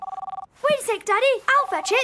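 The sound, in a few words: telephone ringing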